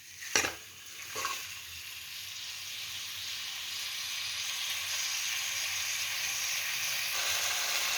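Chicken, a country-style natukodi, frying over high heat in a pan for a Telugu pulusu curry, giving a steady, close, continuous sizzle and hiss with a couple of brief stirring knocks near the start.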